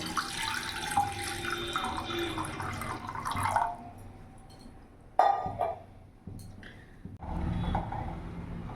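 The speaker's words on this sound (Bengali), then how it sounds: "এরই মধ্যে জল দিয়ে দেবো।" Water runs and splashes into a metal pot on a gas stove in a home kitchen, with clinks of the vessel and a pause before a second pour near the end.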